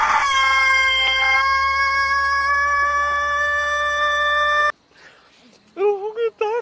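A rooster crows in a long, loud, sustained call, followed after a brief drop by a shorter warbling cry near the end.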